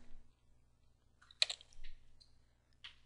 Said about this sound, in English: Let's type in mail here and hit enter.